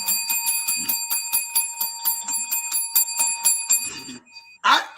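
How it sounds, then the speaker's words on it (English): A bell rings over and over in a fast, steady rhythm for about four seconds, loud and bright with sustained metallic ringing, then stops, followed by a brief clatter. "I almost want to take the bell, James, and throw it"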